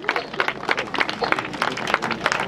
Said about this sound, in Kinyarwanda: Tumuha amashyi